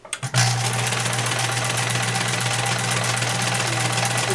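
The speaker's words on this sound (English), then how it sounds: "This first one I'm going to sew it pretty close to where the seam is" A sewing machine runs steadily, stitching a seam close to the edge of an apron made from a ladies' skirt, with a continuous even whirring hum after a brief start.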